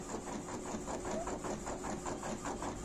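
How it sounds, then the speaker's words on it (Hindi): An Epson L1300 ink tank printer prints a large 12x36 inch glossy sheet, its print head shuttling in a steady mechanical rhythm of repeated whirring passes, fairly quiet and close. "तो आप देख सकते हैं कि कितनी आसानी के साथ दोस्तों ये प्रिंट हो रहा है हमारा"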